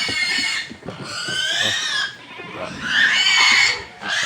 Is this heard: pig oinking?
yes